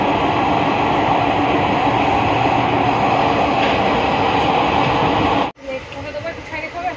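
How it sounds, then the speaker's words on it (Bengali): Loud, steady rumble and rattle of a moving passenger train heard from a seat inside a carriage beside the canteen, continuous for several seconds before a sharp cut to a quieter interior. "একদম ক্যান্টিনের পাশেই সিট পড়েছে, ট্রেন ছেড়ে দিয়েছে।"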